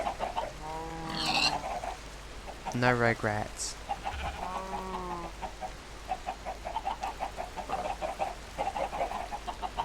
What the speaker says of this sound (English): It is very satisfying smacking the chickens.